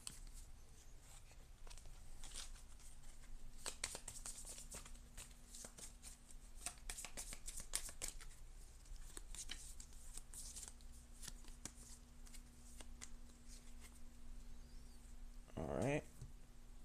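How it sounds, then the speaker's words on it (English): Sand snake cards being shuffled back into a deck during a tabletop board game, a soft, rapid papery riffle that runs steadily for most of the stretch under background noise, with one louder burst near the end. "And then we shuffle all the sand snake cards back."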